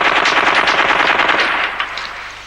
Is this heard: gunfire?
yes